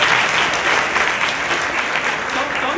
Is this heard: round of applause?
yes